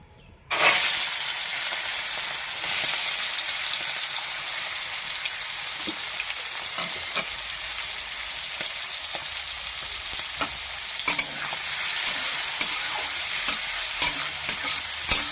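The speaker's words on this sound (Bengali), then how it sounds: "এবার আমি চিংড়ি মাছে এই দেখুন নুন হলুদ মাখিয়ে নিয়েছি এবার গরম ভেজে নেবো" Shrimp coated in salt and turmeric sizzle loudly in hot oil, a dense crackling hiss that starts abruptly and runs steadily, with occasional sharper pops and spatters throughout.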